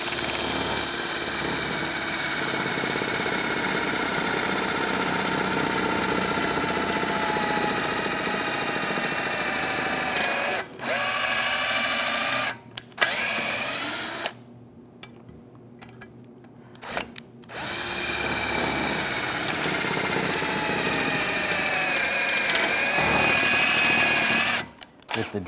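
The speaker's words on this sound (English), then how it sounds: "what you can do is take a drill bit. I'm just going to drill into here." A power drill bores steadily into the rear control arm bushing of a 2004–2010 BMW X3, a loud, continuous whine broken by several brief stops and restarts before it runs on again.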